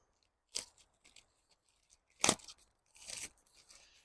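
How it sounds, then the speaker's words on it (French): A strip of roofing membrane torn by hand outdoors while building a cabin roof, heard as three short, dry ripping bursts separated by quiet pauses, with no talking. "On va déchirer ça."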